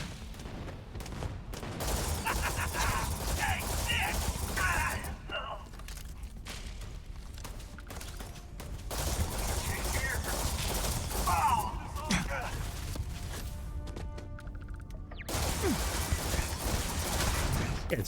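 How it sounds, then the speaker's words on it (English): Bursts of enemy gunfire in the space RPG Starfield, rapid crackling volleys and single shots in clusters at varying distance, with a person talking between and over the shooting. "Oh, there's people still shooting at me."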